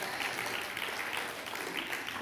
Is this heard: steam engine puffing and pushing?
no